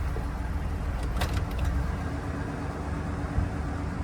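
A Ford F150 engine idles roughly nearby, a steady low rumble with a faint brief rattle near the start, no voices.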